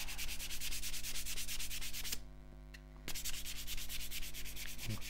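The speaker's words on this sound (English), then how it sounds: "just get another bit of abrasive. And sand it with the grain." Wooden spatula sanded with abrasive along the grain on a lathe, a loud close rhythmic rasping rub in quick even strokes over a steady machine hum, pausing briefly midway before resuming.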